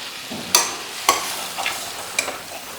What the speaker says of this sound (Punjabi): ਸਾਰੇ ਪਾਸੇ ਕੜਛੀ ਮਾਰੋ